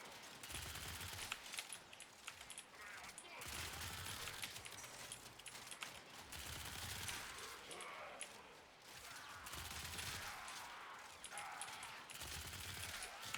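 Nagantaka Prime crossbow firing in Warframe, loosing a long salvo down a hallway: dense, rapid bursts of sharp shots in near-continuous volleys with brief pauses, loud and close, without speech.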